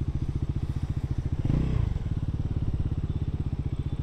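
Bajaj Pulsar NS400Z motorcycle engine in off-road ride mode, a steady close idle with a brief rev swell in the middle, running alone without talk.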